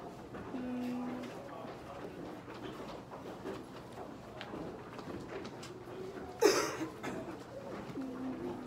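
Soft, low pigeon coos repeat at intervals amid background noise, with a sharp louder burst partway through.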